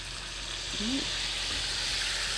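Chicken sizzling in a hot pan with butter, a steady crackling hiss that continues throughout, heard close up.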